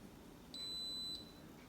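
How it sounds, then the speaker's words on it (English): A Deluxe Multi Cooker pressure cooker timer gives a single steady electronic beep, about half a second long and quite faint, against a quiet room background. "the timer will go off."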